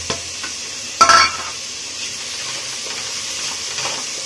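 Ginger, garlic and tomato frying in a pan, giving a steady close sizzle with a brief louder clatter or stir near the start, then a continuous hiss with faint scraping.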